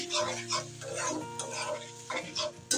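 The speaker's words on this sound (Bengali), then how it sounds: "দিয়ে এখন মশলাটা আমি ভালো করে কষিয়ে নিই।" Turmeric, chili and coriander powders being stir-fried in a pan sizzle softly under repeated close scraping and clinking of a spatula on the metal, in uneven bursts.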